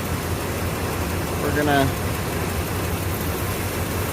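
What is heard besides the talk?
Ford Bronco engine idling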